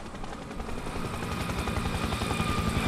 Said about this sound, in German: Langsam, da kommt ein Heli.